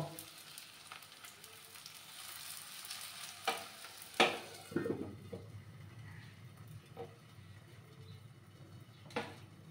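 An atta snack crackles in a pan after white oil is sprinkled over it, a continuous close sizzle broken by a few sharp clinks and scraping knocks in the middle, then settling to a softer frying hiss.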